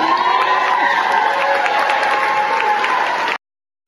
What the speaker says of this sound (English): Dozens of school employees erupted in applause after learning about the decision.